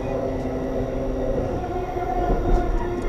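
Amtrak train 151 rolling along the Norfolk & Western main line between Lynchburg and Roanoke, heard from the rear as a loud, steady rumble of wheels and car noise.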